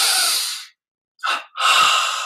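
Slow, deep breaths drawn in and let out during guided meditation, alone and close: a long exhale, a pause of silence, then a short sharp inhale and another long breath.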